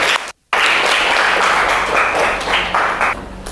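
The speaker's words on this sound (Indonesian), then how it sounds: "tepuk tangan untuk kita semuanya ya." A classroom full of students applauds loudly and steadily for a few seconds after a brief pause, with dense clapping and no clear speech.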